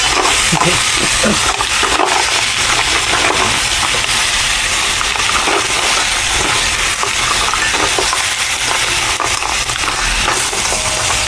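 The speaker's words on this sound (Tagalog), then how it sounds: "Magalaw ating kaserola." A pot of mussels is shaken and shifted for several seconds, with rattling shells, scraping and knocks over a steady hiss of cooking.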